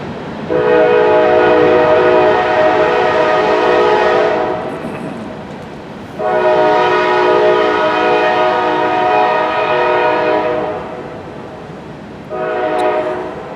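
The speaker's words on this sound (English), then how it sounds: "There's the Kansas City Southern Railroad chugging along." A Kansas City Southern Railroad train rumbles past in Louisiana with steady horn-like tones, swelling loud in three long stretches separated by brief lulls; no voices.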